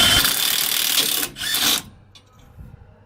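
A ratchet with a deep well socket tightens hardware on a budget lift kit, giving a close, loud run of rapid mechanical clicking and whirring that stops abruptly, then near quiet with faint knocks.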